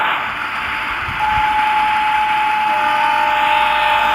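In a video game, a steady train rumble and hiss carries on throughout, with a long sustained horn tone coming in partway and holding to the end.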